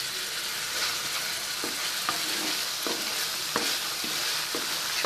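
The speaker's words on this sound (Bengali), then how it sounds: "সব কিছুকে 30 সেকেন্ড একটু নেড়ে নিয়ে" Soy sauce and tomato ketchup sizzle in a frying pan for sweet and sour chicken, a constant hiss punctuated by light spatula taps and scrapes as it is stirred.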